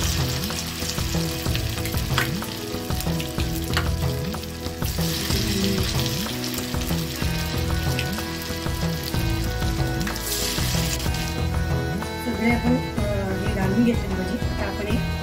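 Sabudana pakoda batter fries in hot oil in a pan, a continuous close sizzle with crackling bursts, while someone speaks over it with light stirring clinks.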